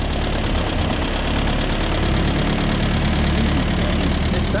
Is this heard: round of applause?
no